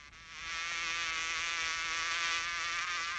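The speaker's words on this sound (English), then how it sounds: "First thing we've got to do is to catch a bee." A steady, close, high buzzing drone of a cartoon bee from the 1964 Tennessee Tuxedo cartoon, swelling in after a quiet start and holding evenly with no talk.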